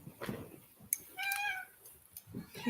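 A house cat gives one clear, drawn-out meow near the middle, with faint movement and soft household sounds around it.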